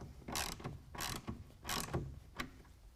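A clamp is ratcheted tight while a TruXedo Sentry CT tonneau cover goes onto a 2019 Chevy GMC 1500 pickup bed. Four quick rasping ratchet bursts come close and fairly quiet, separated by short pauses.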